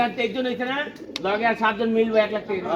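Soft pigeon coos repeat through the clip, close by, with a person talking over them, at a pigeon club racing tournament.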